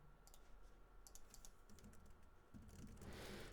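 Computer keyboard being typed on at a desk during game development, quiet scattered clicks in short irregular bursts over a low steady room hum, faint and without talk.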